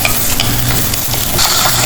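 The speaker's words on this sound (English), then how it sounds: "After sauteing a little" Raw papaya sautéing in a single pan, a dense close sizzle with stirring scrapes that runs steadily and loudly for a brief stretch.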